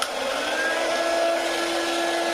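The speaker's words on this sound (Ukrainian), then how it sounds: "І додамо ще маленький феноч такий." A small hair dryer, powered from a 12-volt LiFePO4 battery, whirs steadily at close range, a constant airy hum with a faint tonal whine throughout.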